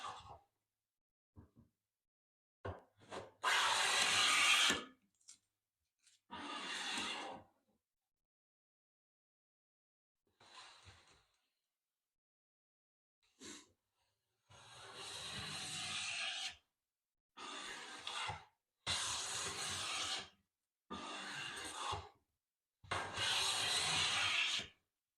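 A hand plane cuts wood shavings with a freshly fettled blade, making a series of separate rasping swipes, some long and some short, each stroke loud and close, with brief pauses in between and no talk.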